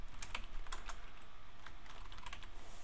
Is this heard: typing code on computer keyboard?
yes